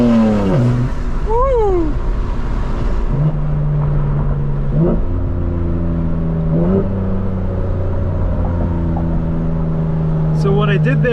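A 2025 BMW M4 Competition in rear-wheel drive revs hard as the tires lose traction, the engine climbing in pitch and dropping with each upshift in repeated surges, loud and close, with a driver whooping once.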